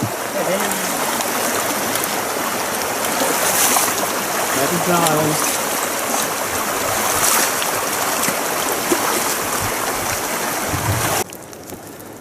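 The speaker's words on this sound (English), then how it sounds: "Crossing the river in the rain." Steady rushing of a river being crossed in the rain fills the scene, a continuous broadband wash with a faint voice or two murmuring beneath it before it drops off near the end.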